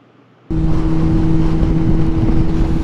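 After a brief near-silence, a motorcycle engine with its exhaust baffle removed suddenly roars up and holds a loud, steady, throaty drone with a strong humming pitch.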